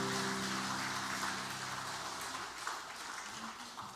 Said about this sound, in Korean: 찬양으로 영광을 돌린 우리 시온 찬양대를 위해서도 박수 한번 해주시죠.